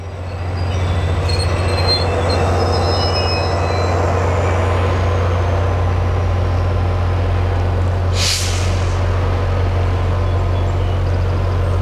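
Push-pull passenger train running under diesel power with catenary down, a continuous loud rolling roar with a deep engine drone, wheels squealing along the rails and a brief hiss of air near the end.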